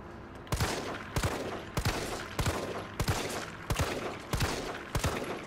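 Gunfire in the video game Resident Evil 3: evenly spaced sharp shots, about eight, each a loud crack with a short tail, repeating at a steady rhythm roughly every two-thirds of a second.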